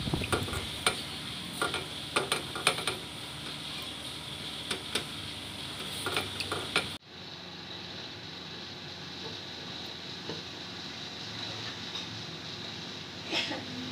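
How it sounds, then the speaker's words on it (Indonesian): Soft scraping and clinking of a spoon stirring thick peanut sauce with water in a pot, steady and close, with a quieter, smoother stretch in the second half. "Kemudian aduk-aduk sampai sambal kacangnya larut supaya nanti lebih mudah memasaknya"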